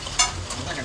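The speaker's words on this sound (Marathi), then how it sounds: "मुंबईमध्ये असा मुसळधार पाऊस पडतो आहे" Steady broadband hiss of heavy monsoon rain in Vikhroli, Mumbai, with a brief louder splash near the start, continuous and close.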